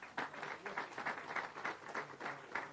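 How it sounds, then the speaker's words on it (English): Faint, scattered audience clapping at a tree-planting reforestation launch in Jamaica, light and uneven, heard from a distance. "Yes, you can clap."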